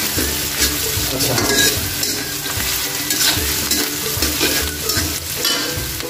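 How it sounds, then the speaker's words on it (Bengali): Sliced onions fry in plenty of hot oil for crisp birista, a loud, close, bubbling sizzle with constant stirring scrapes and clatter running through the whole stretch. "এই পেঁয়াজটা এখানে বেরেস্তা ভাজবো।"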